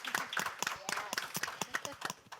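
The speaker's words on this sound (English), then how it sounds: "Can we get a round of applause for these guys?" A small round of applause at a sustainability talk on sport, scattered individual claps at an uneven rhythm, fairly faint, with a voice speaking underneath.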